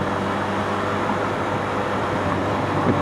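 Steady, loud broadband rumble of a Taipei MRT train running close by, a continuous roar without pauses or voices.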